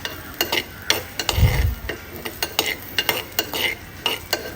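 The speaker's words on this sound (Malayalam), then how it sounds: "അപ്പം ഇഞ്ചി പച്ചമുളകും കൂടി നന്നായിട്ട് തന്നെ ചെറുതായിട്ട് ചോപ്പ് ചെയ്തെടുത്ത് മൂപ്പിച്ചെടുക്കാം" Chopped ginger and green chillies fry in hot coconut oil, a steady sizzle broken by regular scrapes and clicks of a spatula stirring the pan, close and fairly quiet, with no talking.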